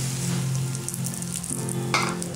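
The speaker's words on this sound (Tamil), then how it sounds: "வாசனை வர வரைக்கும் நம்ம வறுத்துக்கலாம்" Semolina (rava) roasts in a pan with a soft, steady dry sizzle and faint scraping of stirring, quiet and continuous with no talk.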